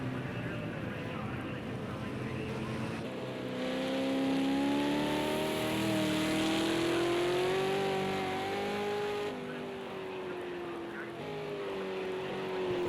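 Race cars run on a wet track at Sonoma, a loud continuous engine drone whose pitch climbs and sweeps steadily, with heavy wind and spray hiss throughout.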